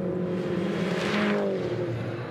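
MINI Challenge race cars from the 2010 season roar past at racing speed, a loud, steady engine drone with a rising and falling whoosh as a car sweeps close by.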